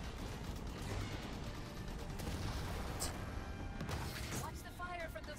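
Turret gunfire from the Halo 5: Guardians video game rattles as dense, sustained bursts of shots at steady loudness, with voices talking over it.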